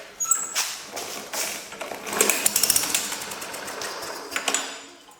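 A Yard Machines 4.0HP 21-inch lawn mower engine catches after a dose of starting fluid, sputtering into a rapid rattling putter that builds briefly before fading.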